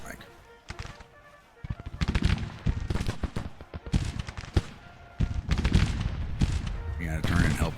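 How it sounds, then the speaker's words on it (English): Musket volleys crackle in Grand Tactician: The Civil War, with sharp irregular bursts of massed rifle fire swelling and fading across the battlefield while someone talks over the shooting. "Yep, they're already firing on the flank."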